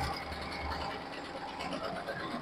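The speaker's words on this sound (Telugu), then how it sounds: "మిషన్ దానంతా దానే డిజైన్ సెలెక్ట్ చేసుకొని థ్రెడ్ వర్క్ చేస్తుంది" A computer embroidery machine stitching a thread design, with 12 thread colours, runs in a steady mechanical clatter with a fast repetitive rhythm, moderately close and continuous, without speech.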